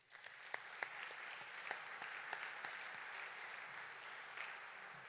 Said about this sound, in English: Please give a round of applause to the dedicated board of the Thunderbird Field 2 Veterans